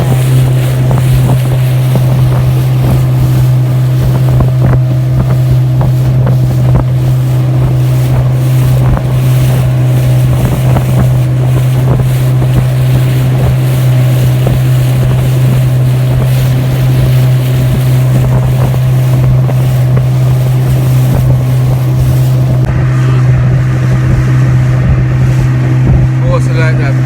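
A steady low engine drone runs throughout with wind buffeting the microphone, a motorboat cruising over open sea toward Pelican Bar, St Elizabeth, Jamaica, close and loud.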